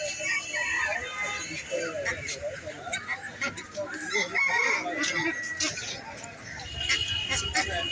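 Chickens and ducks fill a busy wholesale poultry market at Rayer Bazar in Dhanmondi with steady clucking and occasional crowing. The flock is loud and continuous, with people's voices mixed in throughout.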